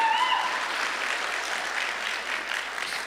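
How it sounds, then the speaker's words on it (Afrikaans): A church congregation claps together in steady, sustained applause during a service, a dense wash of many hands filling the room with no talking over it. "Julle kan maar vir my hande klap"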